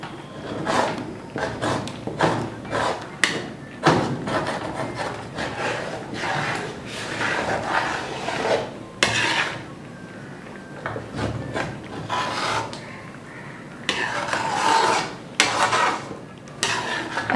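Steel spoon scraping and stirring chana dal halwa in a pan, repeated close, rasping scrapes and knocks in an irregular rhythm with brief pauses, moderately loud and with no talk over it.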